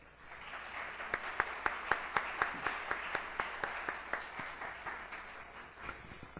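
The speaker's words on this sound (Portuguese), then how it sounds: "Com uma salva de palmas, acolhamos a doutora Nádia" Applause from a conference audience welcoming a speaker at a Unicentro symposium, with a few distinct sharp claps standing out above a steady wash of clapping throughout.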